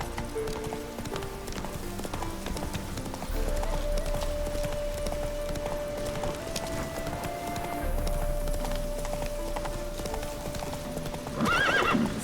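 A horse gallops in the video game The Witcher 3 Wild Hunt, a steady clip-clop of hooves with a whinny near the end, set against game music and ambience.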